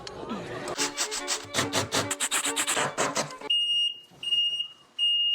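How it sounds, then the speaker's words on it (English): Someone talks briefly, then a high electronic tone from a golf cart beeps several times in short, evenly spaced bursts. "I really got to get that beeping stopped."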